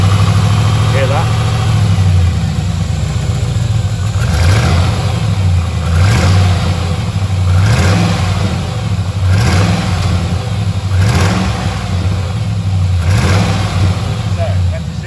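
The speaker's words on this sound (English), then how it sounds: "So, that's a 6-cylinder V8." A V8 car engine idles close by, then revs up repeatedly in short bursts, each rev rising and falling, with a voice talking faintly underneath.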